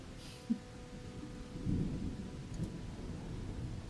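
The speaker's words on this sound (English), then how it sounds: "The rain's really, really coming down." Heavy rain and rolling thunder play as an ambient storm effect in a fantasy campaign: a low, continuous rumble with a brief crack early and a swelling roll midway, fairly quiet overall.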